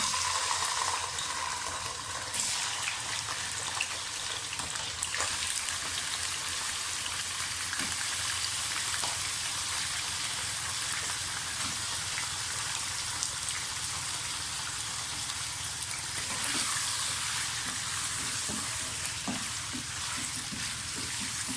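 Chicken fries in a pot after the onions are taken out, giving a loud, dense, rain-like sizzle that holds steady throughout, close by, with a few faint utensil knocks and no talk.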